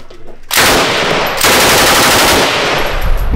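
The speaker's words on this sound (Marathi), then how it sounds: "अरे गोळ्या उडाले." Machine-gun fire bursts out suddenly and very loud, a dense continuous rattle that briefly drops off and then resumes at full intensity, with no voices over it.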